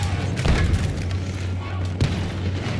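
Booming blasts and thuds of blaster and weapon fire in a Star Wars Battlefront 2 multiplayer battle, a steady loud barrage with a sharper hit near the end, over a low droning hum and some talk.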